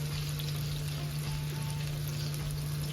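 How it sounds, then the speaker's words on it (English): Swedish meatballs seasoned with onion brown in a skillet, giving a soft, even sizzle over a low steady hum, quiet and uninterrupted. "you're just going to brown them on the outer edges and you're going to flip it over like so"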